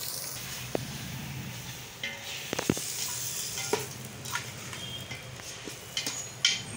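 Chicken frying in a pan while being stirred, giving a steady soft sizzle with scattered scraping clicks and a few sharper knocks of the utensil, no voices.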